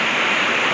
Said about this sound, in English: it is pouring outside, as you can hear. And it's actually getting windy